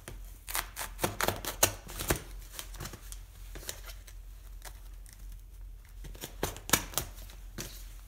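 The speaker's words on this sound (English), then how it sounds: "Let's cut this open." Blades cutting open a 3M P100 oil-resistant particulate filter, with crisp irregular snips and crinkly tearing bursts of the filter material, close and fairly quiet, with pauses between cuts.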